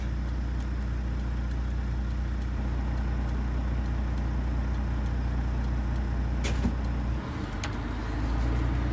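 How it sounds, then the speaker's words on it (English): A rear-engined car on a test drive, showing signs of a problem, sends a steady droning engine and road rumble through the cabin with faint rattles and a couple of sharp knocks near the end. "everything kind of rattles with the engine back there"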